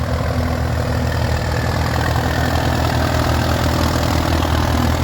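A vintage tractor engine runs steadily at a show parade, a close, loud, continuous low chugging drone with a regular mechanical pulse and no pauses.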